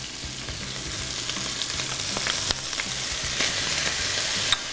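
Chopped onion and garlic frying in a pan with carrot, a dense steady sizzle with faint stirring scrapes and a few brief clicks, close and even throughout.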